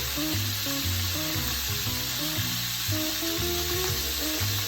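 Food fries in a hot pan with lemon juice and rosemary, a steady bright sizzle running throughout with faint stirring underneath and no talk.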